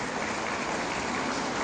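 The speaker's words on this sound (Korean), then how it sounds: "박수 한번 쳐보세요" Audience applause from a crowd at a public rally: dense, steady clapping that fills the whole stretch at an even loudness with no voices over it.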